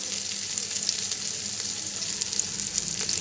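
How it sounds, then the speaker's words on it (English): Chole masala with onions sizzles steadily in a pan over a low to medium flame while being stirred, a continuous close frying hiss with faint scraping, and no one speaking. "On low to medium flame I'm going to stir in."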